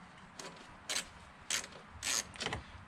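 A ratchet wrench loosens nuts and bolts in short bursts of rapid clicking, four or five quick ratcheting strokes close by, with brief quiet gaps between them.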